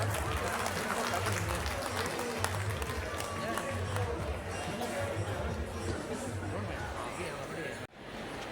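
An audience at a hospital ground-breaking event claps in sustained, dense applause mixed with crowd chatter, steady for several seconds before a brief drop.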